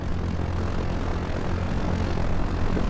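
A simulated MQ-9 drone in Arma 3 holds a steady, loud propeller-engine drone at takeoff, a continuous broad roar with a low hum throughout and no voices.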